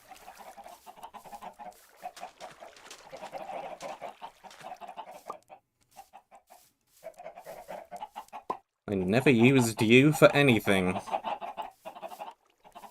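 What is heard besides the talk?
chickens clucking in Minecraft video game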